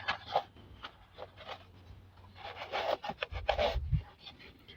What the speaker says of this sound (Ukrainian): Для цього ми серветкою тут протремо